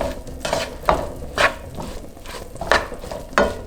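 Seasoned tofu stir fry being stirred in a pan, a steady sizzle broken by several sharp scraping clacks of the utensil against the pan at irregular intervals.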